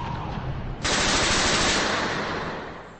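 A 1920s drum-magazine gun holding up to 100 rounds fires one continuous loud burst that starts abruptly and rattles on for about two seconds, fading slightly toward the end.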